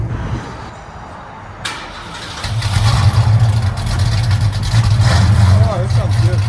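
Ford Mustang Mach 1 V8 with an H-pipe and Hooker mufflers, quiet at first and then starting into a loud, deep, steady idle rumble that runs to the end, with a person speaking over it.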